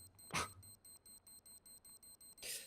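A quick, regular series of electronic bomb beeps in a Counter-Strike esports match ticks evenly, bracketed by two short bursts of noise at the start and end.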